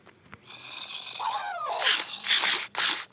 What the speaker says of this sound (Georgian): ძაღლის ხმა იყო